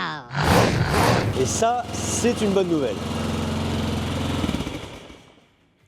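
A Yamaha XT 500 motorcycle with the choke on fires up and settles into a steady, close-up running rumble that fades toward the end, with someone talking over it.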